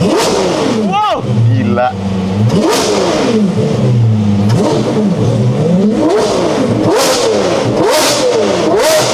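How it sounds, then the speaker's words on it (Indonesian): A Lamborghini Revuelto engine with a non-standard exhaust revs hard in repeated rising and falling surges, loud and close, with excited exclamations from people nearby. "kita akan cobain dulu nih suara dari Lambo Revolto ini"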